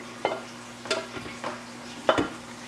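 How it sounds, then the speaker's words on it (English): Onions and garlic sauté in a pan for a cashew béchamel, with a steady low sizzle under a few separate scraping stirs and utensil knocks against the pan. "You just want to, again, saute that so it cooks up."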